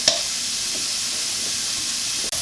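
Vegetables sweating in oil in a preheated pan for chickpea curry give a steady, close sizzle and hiss that runs unbroken, with a brief clink near the end.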